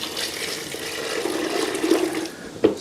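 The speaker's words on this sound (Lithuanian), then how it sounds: "užpilau vandenuko" Water being poured into a groundbait mix for fishing, a steady splashing, trickling pour that runs for a few seconds and ends in a brief sharp splash, close by with no talk.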